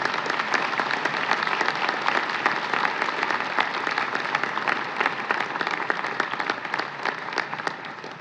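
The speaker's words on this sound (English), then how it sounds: "a round of applause for our new college students." Sustained audience applause at a college scholars induction ceremony, a steady wash of many hands clapping in a large room, even and fairly loud throughout, with no voices over it.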